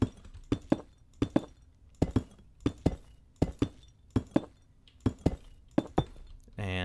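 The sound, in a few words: placing glass blocks in Minecraft video game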